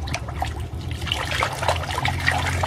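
Plastic toy animal figures are washed in water, with steady trickling and light splashing plus small clicks of toys knocking together, close and continuous.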